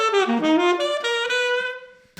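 A saxophone playing a quick triad exercise, a short run of clear stepped notes ending on a held tone, close and solo.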